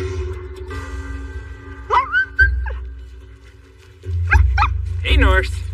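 Sled dogs by the Kobuk River yip, whine and bark in short bursts close by, with a steady engine rumble underneath and someone talking between the sounds.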